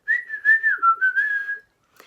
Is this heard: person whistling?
yes